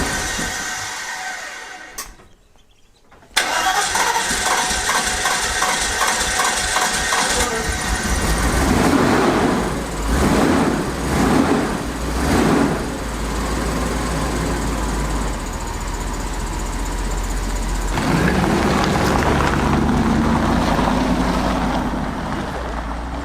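A carbureted Mercedes engine with an accelerator pump catches after a couple of tries: a brief cranking attempt and a pause, then a loud, close, sustained engine run with a few swells in pitch before it settles into a steady idle.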